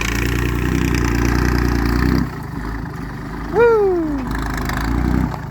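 A walking tractor with four exhaust pipes runs its engine, a loud, rough throbbing that drops off sharply partway, then a sudden revving surge swoops up and falls away.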